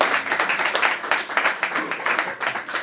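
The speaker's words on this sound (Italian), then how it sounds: "questo applauso lo dedichiamo a tutti i militanti che hanno lavorato" A crowd at an Italian election campaign visit applauds the party activists, loud close clapping that swells and dips in waves over a few seconds.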